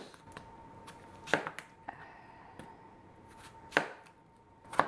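Apples being chopped into big chunks for a rustic crostata, a few sharp, spaced knife strikes on a cutting board against a quiet background, no talk.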